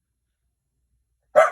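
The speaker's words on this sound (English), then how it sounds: "Why are you barking at her?" A single sharp dog bark bursts out close and loud at the very end, after near silence inside a house.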